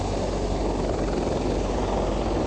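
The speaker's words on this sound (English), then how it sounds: "There are the helicopters" Helicopters thrum overhead as a steady, loud rotor drone with a low rumbling throb and broadband wash, continuous and unbroken with no voices.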